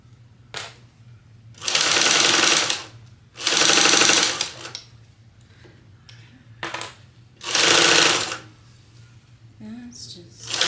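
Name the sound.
sewing machine basting fabric for a clutch bag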